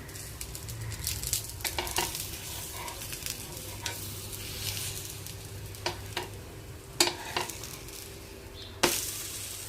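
Mixed-flour ghavan frying in oil in a pan, with a low sizzle, occasional spatula scrapes and a few sharp clinks, fairly quiet and close with nobody speaking.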